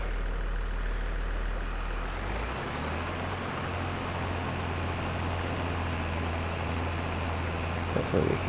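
The engine of a Hannibal T50 tree harvester in a forestry game drones steadily with a deep low rumble that shifts pitch after a couple of seconds, constant and close, with a person talking over it.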